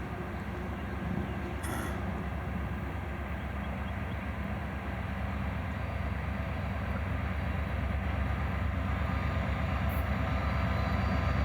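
Florida East Coast Railway locomotives passing near St. Augustine, a steady loud low rumble and engine drone that holds throughout without a break, no talking.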